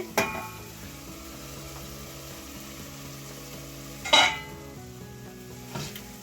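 Biryani ingredients sauté in oil in a pot with a soft, steady sizzle, and a few sharp metallic clanks of a ladle or lid ring out near the start, middle and end.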